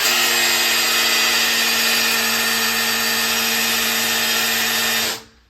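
An electric drill spins the oil pump of a V8 engine being rebuilt after a bent rod, priming it with a loud, steady whine that runs unbroken before cutting off sharply at the end.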